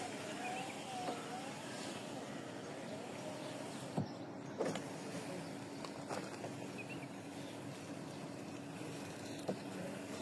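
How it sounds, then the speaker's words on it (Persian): Electric power windows on a Samand LX car whirring as they go up, a steady motor drone with a few small clicks and knocks over about ten seconds, fairly quiet and with no voices. "4 تا شیشهش قشنگ خوشگل میره بالا. داره جون میکنه میره بالا."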